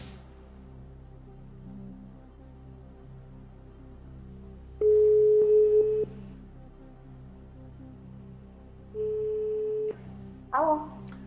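A telephone ringback tone sounds during a phone-a-friend call on the Bulgarian quiz show Stani bogat: two long, steady tones separated by a pause over a quiet background, then a short click as the line connects.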